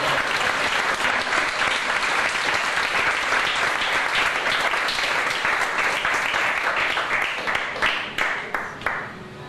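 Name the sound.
church congregation applause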